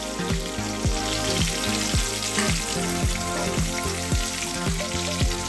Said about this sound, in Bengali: আমার যে ফোড়নগুলো দিয়েছি সেগুলো প্রায় ভাজা হয়ে গেছে